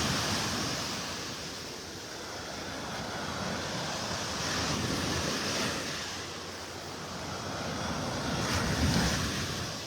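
Small waves wash steadily onto a beach in North Naples, Florida, on a soft, continuous surf that gently rises and falls beneath breezy wind rumble.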